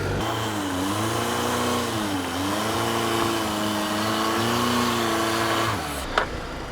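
A Mazda CX-50 Meridian Edition engine hums steadily as the SUV crawls slowly up an off-road test hill, a continuous mid-pitched drone with slight rises and dips in revs, ending in a brief knock and fade.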